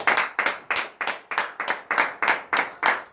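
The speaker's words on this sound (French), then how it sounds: "manifestez votre reconnaissance à l'Éternel en lui donnant de vives acclamations ce matin" A church congregation at a morning prayer service in Benin claps in unison, about ten loud, evenly spaced beats of many hands striking together in a steady rhythm, with no distinct cheering.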